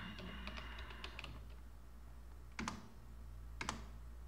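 Quiet keystrokes on a computer keyboard as a command is typed: a quick cluster of light, close taps at the start, then two sharper, isolated key presses a second apart against a low steady hum.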